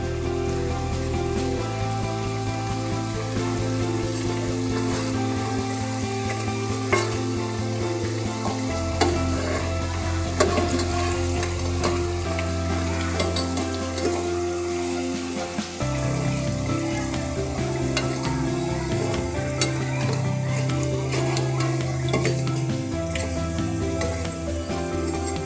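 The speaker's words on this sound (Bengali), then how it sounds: "পিঠাগুলিকে আমি উল্টিয়ে পাল্টিয়ে ব্রাউন কালার করে ভেজে নিয়েছি।" Sunflower pitha fries and is flipped in a pan of hot oil, giving a loud, continuous sizzle with occasional bubbling pops and the scrape of turning the pieces, no voices over it.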